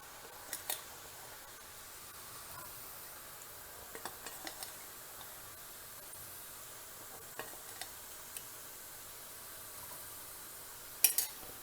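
Masala peanuts fry in hot oil with a faint, steady sizzle, punctuated by occasional light clicks and taps of a spoon or pan, quiet and close with no talking.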